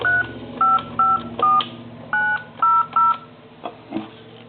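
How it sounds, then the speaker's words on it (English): A quick series of touch-tone dialing beeps from a wood wall telephone, about eight short tones in uneven bursts over a faint steady line hum, clear and close. "I'm going to call like time and temp number"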